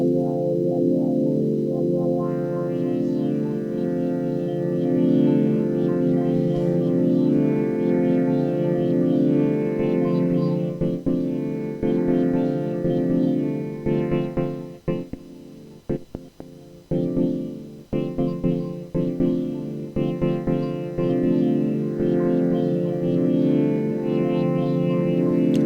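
A Behringer Model D synthesizer plays a dry, sustained sequence with no reverb or delay, a dense buzzing tone holding steady with a few brief dropouts in its later half.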